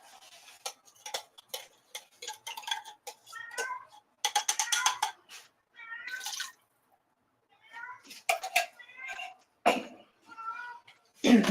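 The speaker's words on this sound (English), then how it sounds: "And that is one of my cats in the background," A pet cat meows several times in the background of a home kitchen during cooking, with short, separate cries spread across the stretch, mixed with sharp ticking and dripping clicks and brief talk.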